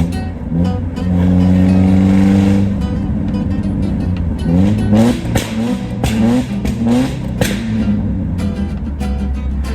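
A rally car engine revs hard and loud at a hillclimb event, rising and falling in repeated bursts of acceleration with gear changes, close by, no talk over it.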